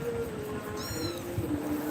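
A kitten cries out while another cat chases and frightens it, a short high-pitched meow heard faintly against steady background noise.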